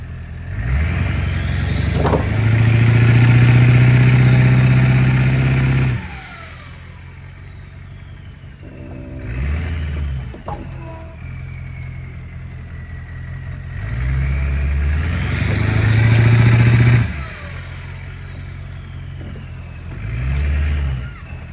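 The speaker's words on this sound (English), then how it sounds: "Maybe we ought to try and give it a little tug with the Ford." An old Ford truck engine revs hard to tug a seized, flooded Dodge W350 12-valve out with a strap, swelling in loud sustained pulls and then falling back toward idle between efforts, close by.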